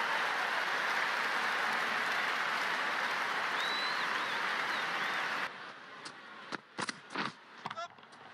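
A stadium crowd in the cricket video game Cricket 19 applauds and cheers a boundary four in an England vs Pakistan ODI final, a loud, dense wash of clapping that cuts off abruptly, followed by brief clicks.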